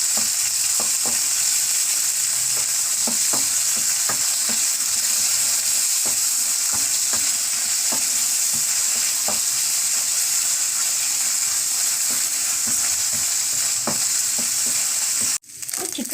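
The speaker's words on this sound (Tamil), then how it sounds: "சிக்கன் கொஞ்சம் எண்ணெயில் வேகணுங்க" Chicken pieces fry in hot oil with a loud, dense, continuous sizzle and scattered crackling pops throughout, close up, until a brief stir near the end.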